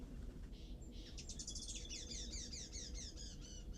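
Small birds chirp in a quick repeated series on a sunny morning at a campsite in an island ghost town, the bright tweets fairly close and steady over a low outdoor rumble.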